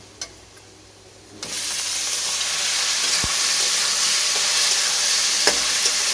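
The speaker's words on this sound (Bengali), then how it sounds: "এবার আমি এর মধ্যে কিমাটা দিয়ে দেবো।" After a quiet moment, mutton mince is dropped into a pan of fried onions and erupts into a loud, steady sizzle, with a few stirring knocks through the frying.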